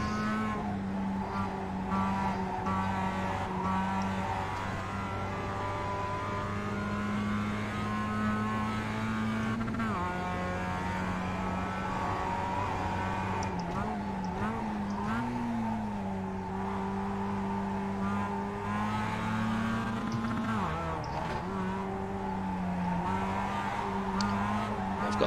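Mazda MX-5 race car engine in iRacing at Summit Point, a continuous droning whine that holds steady and then dips and rises in pitch with gear and throttle changes, close and unbroken throughout.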